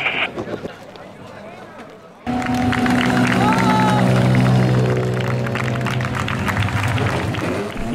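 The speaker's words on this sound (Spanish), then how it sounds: "Imágenes de los aplausos de los espectadores y aficionados al paso de los vehículos de vuelta hacia Enix tras la neutralización del tramo" Roadside spectators at a rally stage applaud and cheer as rally cars pass on their way back after the stage is neutralised, a dense outdoor crowd clapping with voices and engine noise mixed in; the clatter swells loudly after a quieter opening.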